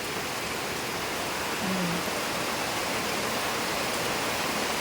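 Steady rain falls in the Philippine countryside on a walk to a farm, an even, unbroken hiss of close, moderately loud downpour with no voices.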